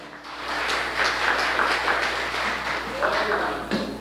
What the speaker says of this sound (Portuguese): Aplauda o Rei da Glória